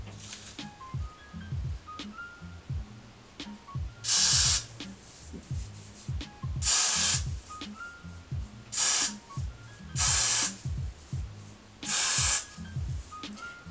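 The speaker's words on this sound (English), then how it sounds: "we're just going to spray it and like tap it in" Hair spray hissing onto a wig in five short bursts, each about a second long and spaced a couple of seconds apart, close and fairly loud over soft tapping and rubbing between them.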